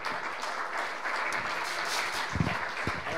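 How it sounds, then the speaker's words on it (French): An audience applauds steadily as guests join the stage at a digital sport innovation event, with continuous clapping filling the room and a brief heavier burst near the end. "On peut l'applaudir."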